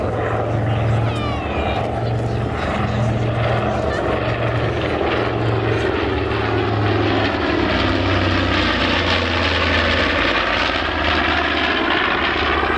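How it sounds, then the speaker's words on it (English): A B-25 Mitchell bomber flies past at a 2016 Southport airshow, its loud twin piston engines droning steadily with a low propeller throb for the whole stretch, swelling slightly as it passes. "The B-25 was originally designed to bomb from medium altitudes in level flight."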